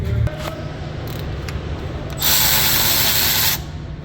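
A power tool working on the front brake caliper and bracket bolts of a 2014-2020 Chevy Impala, heard as short whirring bursts and then a louder, steady, close-up run lasting just over a second.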